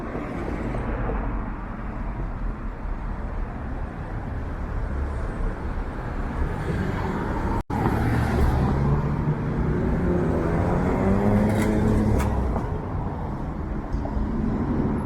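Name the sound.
Friday night road traffic in North York, Toronto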